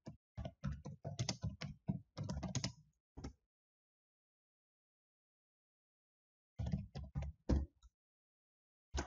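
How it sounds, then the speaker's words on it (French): Rapid keystrokes clatter on a computer keyboard in quick bursts, then a pause of silence followed by a few more taps and a firmer Enter press; close and fairly quiet. "On appuie sur entrée naturellement."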